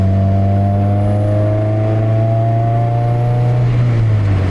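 K-swapped Acura Integra engine and exhaust while driving, a steady loud drone with harmonic tones holding and gently falling as the car cruises, close up from inside with no talking.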